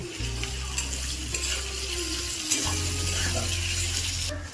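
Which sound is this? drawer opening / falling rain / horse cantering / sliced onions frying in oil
sliced onions frying in oil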